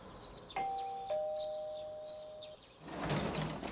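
A doorbell in the video game Persona 4 sounds a clear two-note chime, each tone ringing on and fading slowly, followed by a burst of louder, busier game sound.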